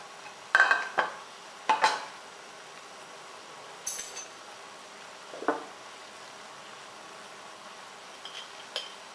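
Utensil scraping and clinking against a pot while stirring a palm sugar and coconut milk mixture for Thai Bua Loy, a few scattered soft clanks and scrapes spread out over quiet background.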